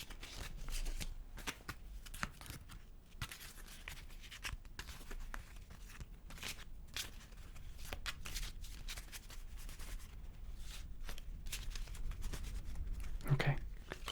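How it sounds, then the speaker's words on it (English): Repeated crisp riffles and snaps of an Uno card deck being shuffled up close, in short bursts with brief pauses between them. "I'm going to give the cards a little bit of a shuffle here"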